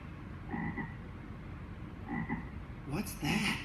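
A frog croaks in a jungle-themed preschool song setting, three short bursts spaced about a second and a half apart, fairly close and heard alone over faint background.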